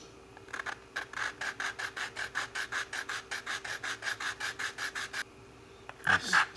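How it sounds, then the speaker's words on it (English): Wet sanding a 3D printed TIE Interceptor part with a sanding block: a fast, regular series of about twenty rasping back-and-forth strokes, close and clear, followed by a brief louder scrape at the end. "These sanding blocks are great for holding an angle."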